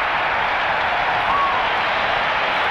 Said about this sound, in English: the crowd exhorting the Bears defense to stop him